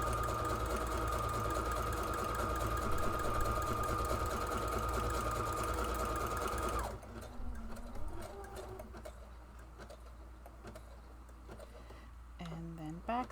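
A sewing machine stitches in a fast, loud, steady whir for several seconds, then stops, followed by quieter handling noises and faint talk.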